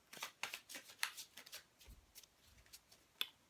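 Chuck Spezzano's Love Oracle cards being handled, a quiet series of soft card flicks, slides and riffles close by, irregular and uneven in rhythm.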